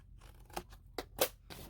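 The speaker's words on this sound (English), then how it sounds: "this one you cut on the score mark" Scissors cutting paper along a score mark, a few quiet close snips and crisp cuts in quick irregular succession, with no talking.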